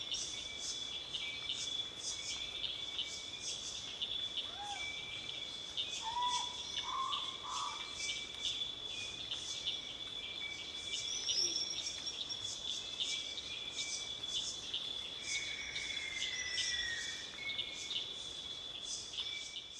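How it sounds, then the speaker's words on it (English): A night forest chorus pulses steadily with insects and frogs, while a feline owlet-nightjar calls in short bursts and a sooty owl screams faintly in the distance, all continuous and fairly quiet. "there is a feline owlet nightjar, which is a very small owl, and you can hear the scream of a sooty owl in the background."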